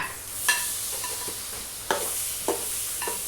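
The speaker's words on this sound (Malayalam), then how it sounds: "റംബൂട്ടാൻ ഇട്ട് ഒന്ന് ഇളക്കിയാൽ മതി" A spoon works rambutan into chili powder for rambutan pickle, making a soft scraping stir with three or four distinct scrapes and clatters over a faint hiss. Nothing else can be heard.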